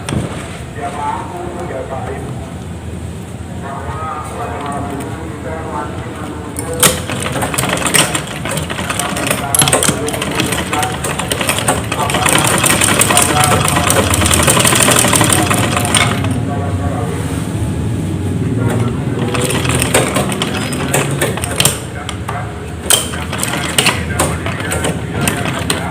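Sewing machine stitching a kutu baru kebaya, running in a sustained mechanical whir with shifting intensity and brief pauses, with a voice speaking over it at times.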